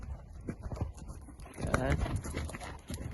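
A horse canters in circles under a rider during a schooling session, its hoofbeats thudding steadily in the background beneath an instructor's brief spoken praise.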